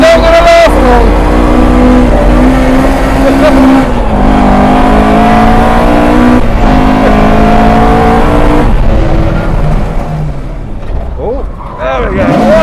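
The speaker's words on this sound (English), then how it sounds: "We are drifting now. 180. Back around again." Loud, close engine of a modified car drifting through 180 and 360 spins, revving hard and rising and falling in pitch, with tyre noise as it slides, continuous throughout.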